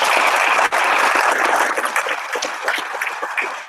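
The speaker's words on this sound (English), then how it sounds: "If you are, let me hear you clap." A live audience at a session in Denmark claps loudly and continuously, the applause thinning into scattered claps toward the end.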